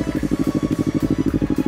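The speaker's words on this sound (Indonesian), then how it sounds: "Nah, ini suara knalpotnya." A 2014 Kawasaki Ninja FI motorcycle modified in ZX6R style idles close up, its exhaust giving a loud, steady, rapid pulsing throb.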